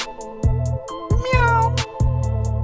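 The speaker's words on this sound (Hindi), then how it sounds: "भीतर से कोई बिल्ली जोर से गुर्राई।" A domestic cat sounds off loudly and close by in a series of short, harsh meow-like growls, about four bursts in quick succession with no talking.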